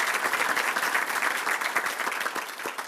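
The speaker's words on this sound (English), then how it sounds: "Can we please give them a round of applause for their commitment to the Chamber in this event?" An indoor audience at a regional chamber annual meeting claps steadily, a dense even patter of many hands sustained for a few seconds.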